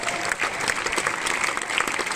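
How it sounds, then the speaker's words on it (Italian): Audience applause at a live Made in Sud comedy show in Lioni, with steady, dense clapping from a crowd filling the whole stretch and no voices rising above it. "facciamo un applauso a questo signore che ha lasciato"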